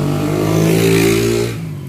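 A vehicle rushes past close by on a street, its engine roar swelling and then fading away within about two seconds.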